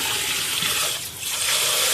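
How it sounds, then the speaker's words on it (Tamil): Washing a soaked stone grinder with an iron scrubber and soap under water gives a loud, continuous rush of running water with splashing throughout, briefly dipping in the middle, with no voices. "இரும்பு ஸ்க்ரப்பரில் கொஞ்சமாக சோப்பு வச்சுட்டு நல்லா அப்படியே கழுவிக்கணும்"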